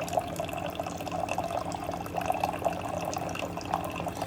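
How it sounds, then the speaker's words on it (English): Water pours steadily from a SimPure countertop reverse osmosis filter dispenser into a cup, a continuous, fairly loud trickling stream heard close up with no talking. "you can press the flushing button and just let it pour until you get to, let's say you wanted a full cup"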